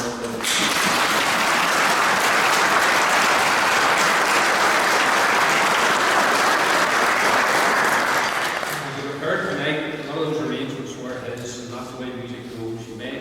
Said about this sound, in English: And I ask, please, for a round of applause for